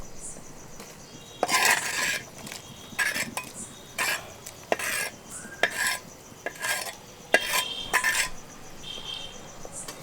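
Spoon clinking and scraping against a metal pot while chicken soup is stirred in a village kitchen, a steady run of bright metallic strokes at a close distance, with no voices.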